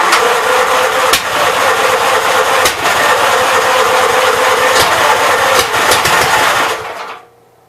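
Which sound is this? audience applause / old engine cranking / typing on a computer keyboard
old engine cranking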